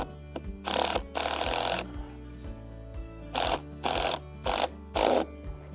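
Screws being driven into a fence post during a broken-post repair: several short, loud bursts of a power driver whirring, separated by brief pauses, close up.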